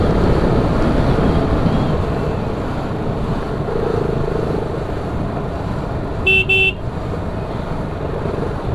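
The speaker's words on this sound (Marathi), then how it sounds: "जिथे जिथे ब्लाइंड स्पॉट आहे तिथे हॉर्न मारायचा भाई" A vehicle horn gives one short honk amid steady engine and road rumble on the traffic-packed ghat road to Bhimashankar, where vehicles sound horns at blind spots.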